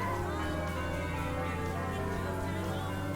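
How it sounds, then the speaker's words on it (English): Bells chime in the Dreamcast racing game Metropolis Street Racer, sustained overlapping ringing tones that hold steady and unbroken for a few seconds at moderate loudness. "That's some creepypasta-ass bells chiming right there."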